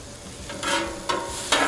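Onions frying on a Blackstone griddle hiss steadily up close, broken by three bursts of louder sizzling and scraping as a spatula moves them around.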